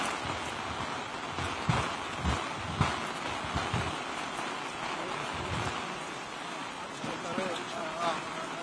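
Steady heavy rain hisses continuously during a police search operation in Kerala, a dense wash of sound with occasional louder spatters and faint voices beneath.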